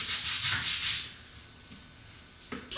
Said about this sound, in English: I'll just put a coat on these bad areas and scrub it a little bit